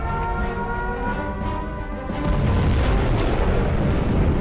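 A nuclear missile strike in the real-time strategy game Command & Conquer Generals Zero Hour builds into a deep, sustained roaring blast that grows louder partway through and keeps rumbling at full volume.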